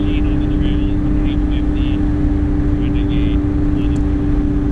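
Ski-Doo 850 Renegade snowmobile engine running steadily on a trail, a continuous loud drone with a strong low hum that stays even throughout, with faint voices underneath.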